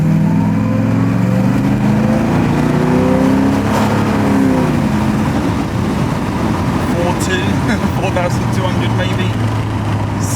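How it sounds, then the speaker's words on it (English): Porsche 928 V8 accelerating flat out at wide open throttle, engine note climbing steadily from inside the car, then dropping through a gear change around four seconds before building again, loud and continuous with faint talk underneath. "out of here we'll do our wide open throttle, you know, flat on the floor, see when it changes gear"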